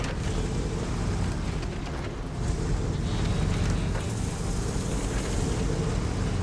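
The Croc truck in the SnowRunner video game drives with a heavy, continuous low engine rumble and rough broadband roar that swells slightly midway, loud and steady with no talking.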